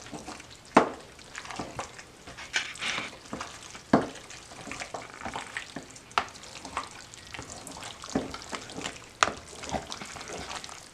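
Mac and cheese being stirred with coconut milk, close wet squelching and scraping of a utensil through thick, creamy food, with irregular knocks against the container, no talking.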